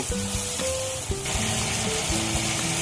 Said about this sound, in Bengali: এইবার সবকিছু মশলা খুব ভালোভাবে কষিয়ে নেব।